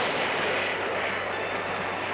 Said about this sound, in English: Good shooting, Sven!